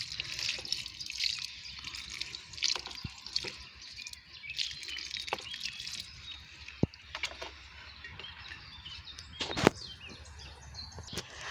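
Liquid organic fertilizer is poured onto the soil under a vegetable plant bush in a garden, giving a soft, irregular wet splashing and dripping, with faint birds and outdoor background around it.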